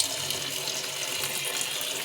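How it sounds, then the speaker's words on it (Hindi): Water gushes from a kitchen tap into a pot of soaked red kidney beans, a steady, close, even rush with no voices over it. "चलिए जी, अब नलका खोलते हैं और पानी ऐड करते हैं।"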